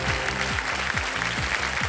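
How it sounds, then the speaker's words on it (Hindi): Studio audience applause on the KBC quiz show, a dense wash of clapping that runs steadily under a thumping, pulsing music bed. "ताली पहले ही पड़ गई"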